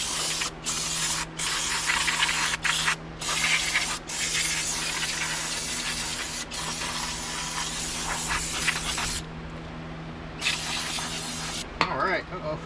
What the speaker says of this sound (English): Just spray it with some brake clean,